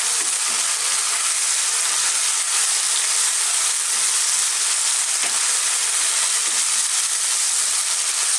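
Beef and beans stir-frying in oyster sauce in a pan over high heat, giving a steady, even sizzle and hiss that stays close and continuous throughout, with no talking.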